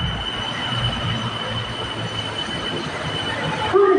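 A BTS Skytrain on the Silom Line in Bangkok rumbles along its elevated rails with a steady roar and a faint high whine, ending in a brief squeal.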